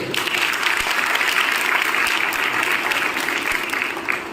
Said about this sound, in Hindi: अपने लिए ज़रा तालियां तो बजा दीजिए।